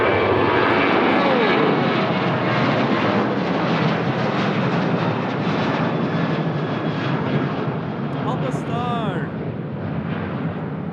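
An Airbus A321LR at Lisbon Airport roars loudly and steadily close by, a broad engine rumble that holds throughout with a brief rising whine near the end, and a voice talks faintly over it.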